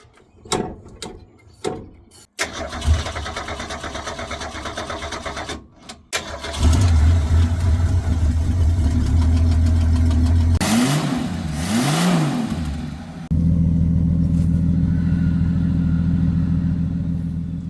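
An old 1969 Ford Falcon engine, after sitting over 40 years, cranks with a few sputtering bursts, then catches and runs loud and rough, revving up and down before settling into a steady idle.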